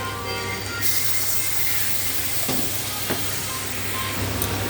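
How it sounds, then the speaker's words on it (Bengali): Mutton mince curry sizzles and steams loudly in the pan, with a sharper hiss as water hits the hot mince and a couple of brief clinks. "কষানো হয়ে গেছে, এবার জল দিয়ে দিই"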